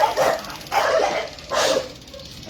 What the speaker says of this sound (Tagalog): Ayan, medyo maingay lang yung aso natin.